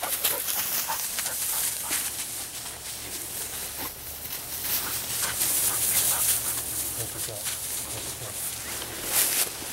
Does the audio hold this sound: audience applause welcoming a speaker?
no